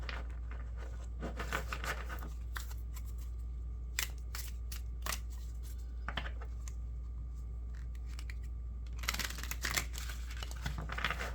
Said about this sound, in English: Couple more shuffles.